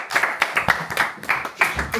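A small group claps for Brio, the dog, in short uneven bursts of hand claps that rise and fall, close by and moderately loud, with no talk over them.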